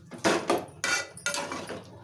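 Cucumber masala curry ingredients are mixed in a pan, giving sharp metallic scrapes and clinks of a utensil against the cookware, four or five distinct strokes in quick, uneven rhythm, close and fairly loud.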